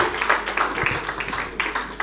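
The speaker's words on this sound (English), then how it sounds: "Give a big round of applause for Muqaddas." An audience at a school prize ceremony applauds a hosting-competition winner, a steady, fairly close wash of many hands clapping throughout.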